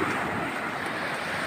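Fierce ocean surf roars on Puri beach in Odisha, a dense, steady wash of breaking waves that stays loud and unbroken throughout, with some wind noise and no voices.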